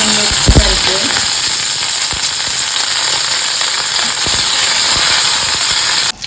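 Curry leaves and green chillies sizzle loudly in hot oil in a pan for Agri-style dal, a dense steady crackle with sharp pops near the start.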